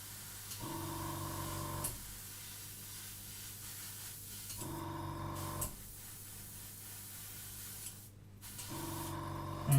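An airbrush sprays paint in three short, even hissing bursts separated by quiet gaps, fairly soft and close, during work on a primed model.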